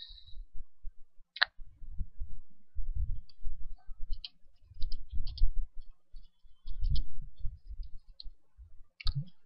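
Light clicking taps in irregular bursts from typing on a computer keyboard, with soft low thumps underneath and a few sharper clicks.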